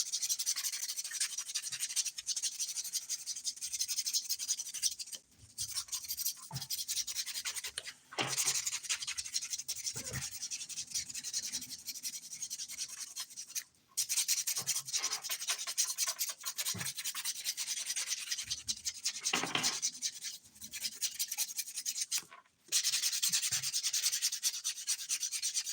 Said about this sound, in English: I'm just going to do a really quick buffing